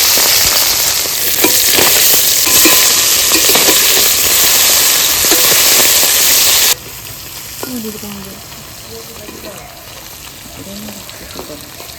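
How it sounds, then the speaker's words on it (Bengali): Small fish coated in salt and turmeric sizzle and crackle in hot mustard oil in a wok. The frying is loud and dense for the first half, then drops abruptly to a quieter spattering with a voice speaking softly. "এবার ভেজে নেব।"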